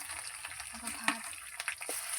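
Meat frying in a pan with ginger and garlic for biryani, a soft steady sizzle with faint stirring scrapes, heard fairly quietly and close throughout.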